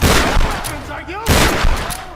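Loud, sharp gunfire bursts in the Tomb Raider video game, two heavy volleys close together with a brief lull between them.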